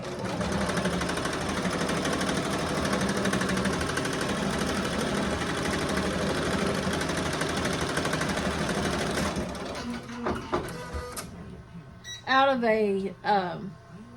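An embroidery machine stitches an appliqué on a grandma shirt, a steady rapid mechanical buzz for about nine seconds that then stops, followed by scattered clicks and a voice talking nearby.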